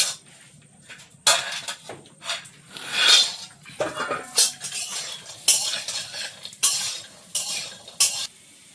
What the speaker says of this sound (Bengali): বড়িটা বেশ লাল লাল করে ভেজে নিছি